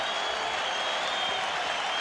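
Steady roar of a baseball crowd at Fenway Park during the 1986 World Series, a broad, continuous wash of cheering and applause with no pauses.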